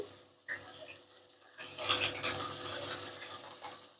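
Broccoli tipped into a pan of mixed winter vegetables being dry-fried without water: a few close clatters of utensil on pan, then a soft, continuous sizzle with light stirring, no talk.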